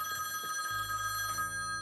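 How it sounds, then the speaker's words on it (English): An in-game telephone rings in The Quarry, a steady electronic bell tone with sharp repeating pulses, close and clear, with no talk over it. "Phone's ringing!"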